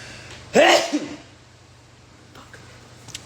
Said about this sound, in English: And I'm going to sneeze now.